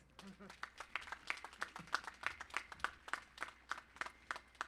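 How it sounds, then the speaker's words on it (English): Applause from a crowd at a high school graduation commencement ceremony, a steady run of quick, fairly faint claps with a voice briefly heard at the start. "That deserves some applause"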